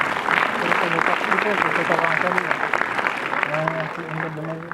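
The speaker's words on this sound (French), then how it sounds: "On applaudit très fort." Audience at a magic show applauding for a volunteer, a sustained wash of clapping with voices speaking over it.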